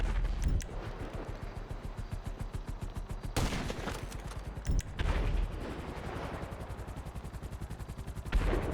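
Sustained rapid gunfire from a shootout in the video game GTA set in Los Santos, a dense rattling stream of shots with louder bursts and booms breaking through, no talk.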